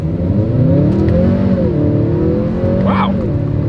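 A 2024 Acura TLX accelerating hard through paddle-shifted gears, engine note climbing and dipping steadily as heard from inside the cabin, loud and continuous with no talking.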